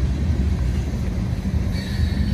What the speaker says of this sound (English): There's the end of the train.